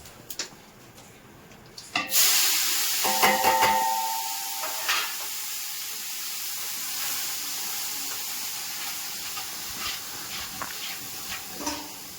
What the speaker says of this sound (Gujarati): વઘાર કરવાનો છે તો આ રીતે આપણે વઘાર કરીએ છીએ